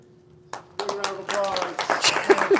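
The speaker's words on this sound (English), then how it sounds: "applause." Applause from a small group at a Missouri Aquarium Society live meeting, starting with a few scattered claps and building into light, uneven clapping, with people talking over it.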